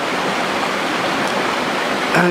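Brook water flowing steadily around an abandoned 1937 Ford Tudor sitting in the stream, a continuous broadband rush heard close up with no clear talk.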